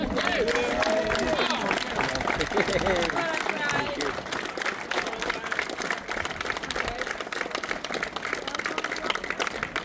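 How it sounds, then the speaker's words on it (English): Crowd applause at a street car drag racing weekend, a sustained wash of many hands clapping with some cheering and voices mixed in, steady and fairly distant. "big round of applause, Graham Smith!"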